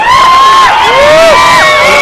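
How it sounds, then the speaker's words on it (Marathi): A loud crowd at a bodybuilding contest cheers and whoops with rising and falling shouts and whistles, filling the air throughout. "त्याला टाळ्या जोरात."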